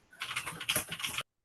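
Rapid typing on a computer keyboard, a dense run of small clicks and taps at close range, steady for about a second before cutting off abruptly, with no voices.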